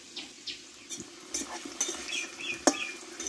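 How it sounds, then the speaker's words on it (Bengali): Fried potatoes being lifted out of hot oil in a pan, with soft metal scrapes, light clinks and faint sizzling over a few seconds. "এবার আলুগুলো তেল থেকে তুলে নেব আমি।"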